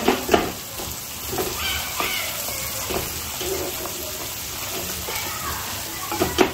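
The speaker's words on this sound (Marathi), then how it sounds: "तर सगळे मसाले परतून घेणार आपण त्याच्यावर." Spices with red chilli and a little sugar sautéing in hot oil for chole, a dense continuous sizzle with soft stirring scrapes throughout and a couple of louder clatters at the start and end.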